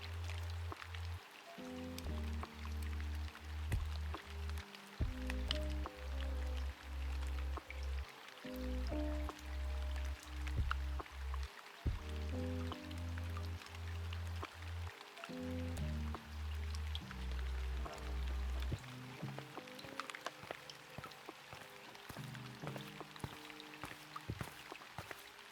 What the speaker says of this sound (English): for being a summer rain, those drops are kind of cold